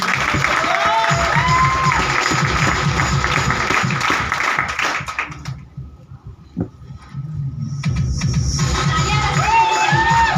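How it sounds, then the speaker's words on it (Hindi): Clapping and cheering from an audience at an MLM business plan presentation in Rajnandgaon, loud and sustained, briefly dropping to quiet near the middle before the applause swells again. "इसके लिए जोरदार तालियां होगी"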